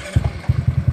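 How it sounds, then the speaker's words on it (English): A ZNEN ZN150T-9 motor scooter engine idles close by with a steady, chugging low pulse of evenly spaced firing beats, briefly breaking off after the start before resuming its regular rhythm. "Engine's on."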